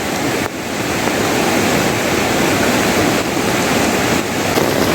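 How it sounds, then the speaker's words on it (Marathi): Flooded river water rushes loudly after heavy monsoon rain in the Konkan, a dense, unbroken roar close by with no voices. "ह्या नदीचं पाणी एवढं जबरदस्त आलं आहे"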